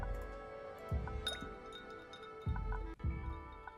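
Ice cubes clink into a glass during drink mixing in the bar game The Red Strings Club, a few quiet separate knocks, close and faint, with no talking.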